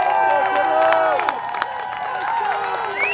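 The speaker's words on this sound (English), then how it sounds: "the crowd showing their support for the Grad Generals. The loudest it's been so far, trying to psych this defense up" Crowd cheering and applauding at a varsity senior night game between Grant and OES, a sustained dense roar of voices and clapping with whistles and shouts rising through it, loud and close.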